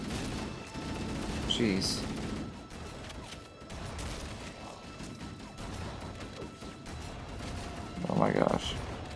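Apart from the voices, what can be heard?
gunfire from enemies in Halo Combat Evolved Anniversary video game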